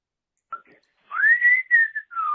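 A person whistles a short tune: a brief chirp, then a rising, sliding melody with a few sustained notes, clear and close.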